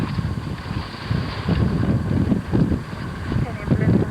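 Wind gusts at a sailing race as the boats line up for the start. It makes a low, rumbling buffeting across the microphone, and someone talks over it.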